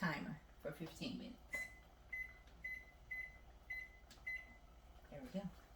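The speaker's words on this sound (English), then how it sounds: "I'm going to set a timer for 15 minutes." A kitchen timer being set for an oven bake gives a series of about six short, evenly spaced high beeps, faint and close, after a brief bit of handling noise and soft voices at the start.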